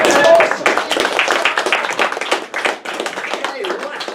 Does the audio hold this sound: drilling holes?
no